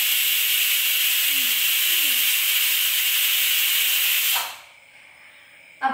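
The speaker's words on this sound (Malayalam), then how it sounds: "ഒരു വിസിൽ വന്നു, ഇനി ഒരു വിസിലും കൂടെ വന്നു കഴിഞ്ഞാൽ നമുക്ക് ഗ്യാസ് ഓഫാക്കാം." Pressure cooker on a gas stove venting steam through its whistle, a loud continuous hiss that cuts off abruptly after about four seconds, leaving a faint residual hiss and a short clank.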